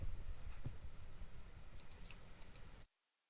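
Rapid clicking of fingers typing on a computer keyboard, a brisk run of close keystrokes over a few seconds before cutting to silence.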